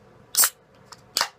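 A Natty Rush Blue Frostbite beer can is cracked open, giving two sharp, bright bursts about a second apart with a faint click between them, close and alone.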